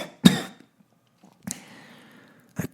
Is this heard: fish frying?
no